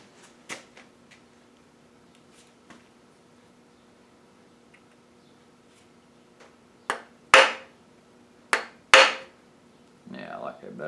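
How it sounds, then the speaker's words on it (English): Metal hammer blows during bottom-end disassembly of a 4.8 LS engine: a few scattered light taps, then three or four sharp, loud ringing strikes close by, ending with a scraping rattle. "Way too big of a hammer for the job."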